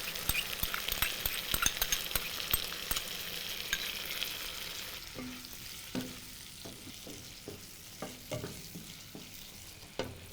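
Tofu in a chilli sauce mixture with tomato ketchup sizzling and frying in a pan, a dense hiss at first that thins out as a utensil stirs and scrapes with scattered clinks, no talking.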